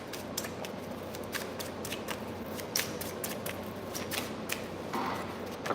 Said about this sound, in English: Let me go ahead and shuffle my cards.